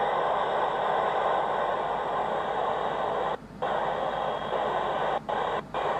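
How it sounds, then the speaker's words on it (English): Steady hiss of radio static on a HAM radio set aboard the International Space Station, broadband and continuous, broken by a brief dropout mid-way and two quick cuts near the end. "So now you can hear a lot of static"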